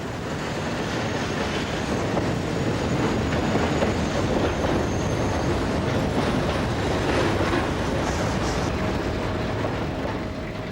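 A train rumbles steadily through Lyon Perrache station with rattling wheels and occasional faint squeals, a continuous noisy roar from start to finish.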